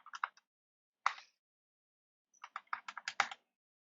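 Someone types a password on a computer keyboard while setting up Ubuntu 22.04 in VirtualBox on macOS: crisp, close keystrokes arrive in short bursts, with a quick group, a single tap, then a faster run of clicks.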